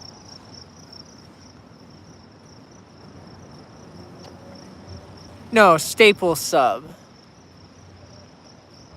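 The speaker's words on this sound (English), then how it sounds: "several crickets have joined. I'm hearing them." Several crickets chirp steadily in the background of a quiet outdoor spot beside a railway line, a continuous high trill that carries on under a brief burst of nearby talk.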